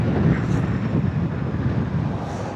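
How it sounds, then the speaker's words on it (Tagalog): Strong wind roars steadily across the microphone while riding a Honda Navi motorcycle on a road trip, a loud continuous rushing buffet with no voices. "Uy, lakas ng hangin."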